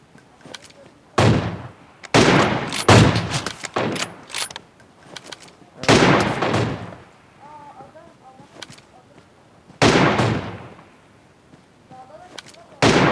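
Gunfire from the mobile battle royale game PUBG Mobile: several loud bursts of shots arrive in separated clusters, some with rapid repeated cracks, with quieter game sounds between them.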